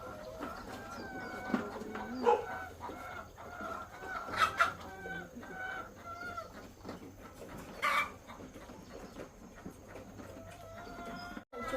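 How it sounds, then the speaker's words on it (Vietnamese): Many chickens cluck and squawk at a large chicken farm, with overlapping calls rising and falling over a low, constant background hum, fairly close and moderately loud. "Chuồng trại gà này của bác to thật đấy."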